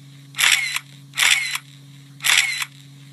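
A phone camera taking selfies: three evenly spaced shutter-like bursts, each about a third of a second long, over a steady low hum.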